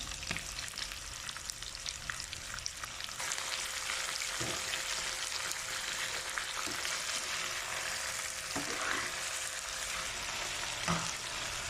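Chicken pieces fry for chicken afritada in a pan with garlic and onions, giving a steady, dense sizzle and crackle with occasional stirring scrapes and no voices.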